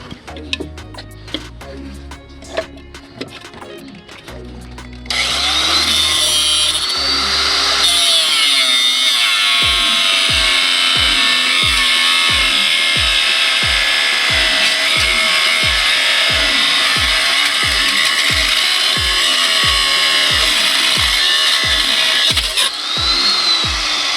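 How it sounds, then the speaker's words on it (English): An angle grinder cuts out a bolt on a 2012 Ford Mustang 3.7. After a few seconds of clattery handling it spins up to a loud, sustained high whine with rhythmic pulsing as the disc bites, running steadily for many seconds. "I'm just gonna use the angle grinder and just cut that bolt out"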